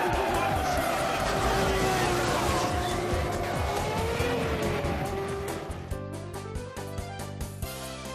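Race cars roar around Sepang International Circuit with loud, continuous engine howl and pitch sweeps as they pass, tires squealing, a busy layered wash, with music or other sound cutting in toward the end.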